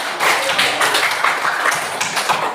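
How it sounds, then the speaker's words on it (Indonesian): Students in a classroom clap for a classmate, a short burst of fairly close, uneven hand clapping from a small group. "Baik, tepuk tangan untuk teman kita."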